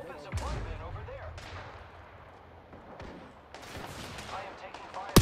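Gunfire in the Apex Legends video game comes as scattered shots and bursts, some near and punchy, others quieter, mixed with game effects and voice callouts, ending in a sharp loud report.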